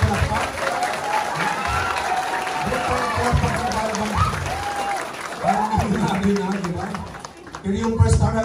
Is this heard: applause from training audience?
yes